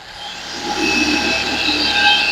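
A Maxshine M21 Pro paint polisher motor runs at speed 1, producing a steady whirring hum with faint high-pitched whine tones, continuous and fairly close throughout.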